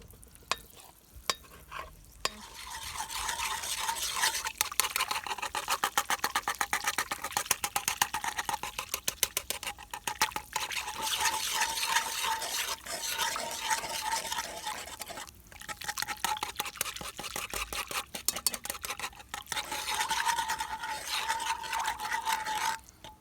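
Ingredients for Jamaican spiced bun being mixed in a bowl, a steady scraping, stirring rasp with rhythmic clicks that runs continuously at moderate level, close by and without speech.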